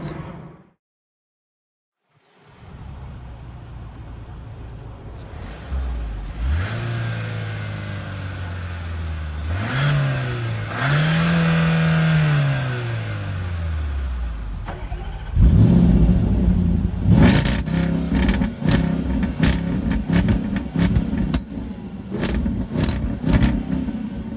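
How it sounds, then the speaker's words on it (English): Land Rover Defender with a 5-liter supercharged V8 starts up and drives on a road, the engine revving and rising in pitch through several gear changes, loud and close, with no talk. "we're on the road in the Land Rover Defender, and this is why you're going to be buying this vehicle. We have a 5-liter supercharged V8"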